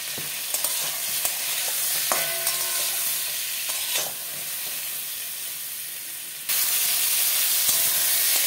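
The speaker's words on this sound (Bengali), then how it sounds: "পটলটা ভাজা হয়ে গেছে।" Pointed gourd (potol) with turmeric and salt frying in a pan makes a loud, continuous sizzle, close by, with intermittent clinks and scrapes of a stirring spoon; the sizzle grows louder and brighter near the end, with no talk.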